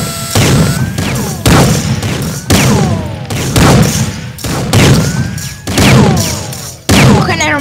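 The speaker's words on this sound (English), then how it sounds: "Let's use a sniper now." Sniper rifle shots in a video game ring out as a series of loud, sharp reports, about seven in all, each followed by a short echoing tail and spaced roughly a second apart, with no talk over them.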